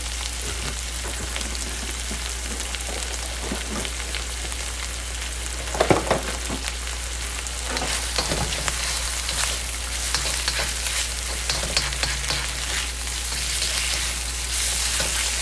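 Szechuan green beans stir-fried in a little oil, a steady crackling sizzle running throughout with occasional louder scrapes of a spoon against the pan, close up and with no talking.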